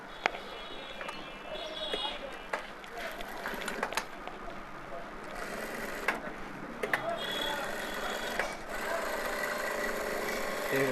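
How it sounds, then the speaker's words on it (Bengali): Sewing machine running a press stitch along a trouser pocket, a near whirring drone with brief pauses and a few sharp clicks, under faint background talk. "তারপর দেখেন এইভাবে এখান থেকে একটা চাপ সেলাই দেবো।"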